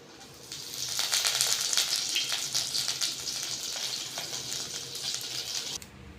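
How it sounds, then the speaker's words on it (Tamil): Mustard seeds, urad dal, asafoetida and curry leaves crackle and sizzle in hot oil for a sambar tempering, a loud close spitting hiss that swells quickly and then settles. "இப்போ நம்ம சாம்பாருக்கு தாளிச்சிக்கலாம்"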